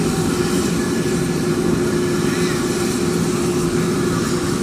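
An Embraer E195-E2 jet on approach at London City, its engines producing a steady, loud, broad roar with a sustained low hum and no breaks.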